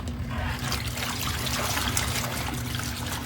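A ZenStyle portable twin tub washer churns clothes in water, giving a steady, close sloshing and trickling wash with a low motor hum underneath, continuous and without speech.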